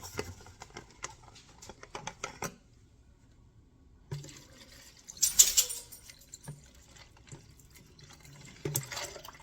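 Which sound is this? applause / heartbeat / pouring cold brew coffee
pouring cold brew coffee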